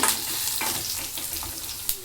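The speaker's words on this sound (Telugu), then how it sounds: "దీనికి తగినట్టుగా కరివేపాకు బాగా వేపే వరకు పోపు వేపేసుకోవాలి" Curry leaves fry in hot oil with a dense, continuous crackling sizzle, broken by a few sharper pops and stirring scrapes, close and fairly loud throughout.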